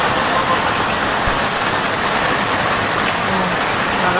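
Heavy rain pours steadily over a house, a dense, unbroken hiss close by that holds at the same loud level throughout, with no voices.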